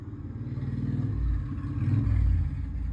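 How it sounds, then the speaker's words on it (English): A motorbike engine drones and revs outside nearby, its low rumble swelling twice over a few seconds with some rattling clatter. "Someone getting excited over someone on a motorbike."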